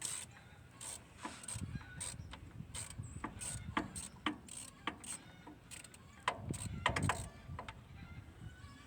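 A hand ratchet clicks in quick, uneven bursts while bolts come out of a Farmall H tractor clutch, with metallic clinks and tool handling in a quiet, close shop setting.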